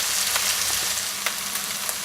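Onion browns in a hot pan for a Tuscan beef stew, giving a steady bright sizzle with a few sharp pops and stirring scrapes, close and without voices.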